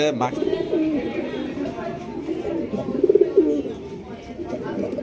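A pair of Chila pigeons coo repeatedly up close, throaty rolling calls rising and falling, with a louder burst of cooing midway.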